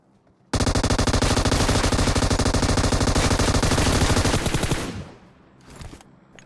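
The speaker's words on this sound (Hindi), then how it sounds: "पीछे से कोई M249 चला रहा है" Long sustained burst of M249 machine gun fire in the mobile game PUBG Mobile, loud and rapid with evenly spaced shots for about four seconds before tailing off, then a brief distant echo of more fire.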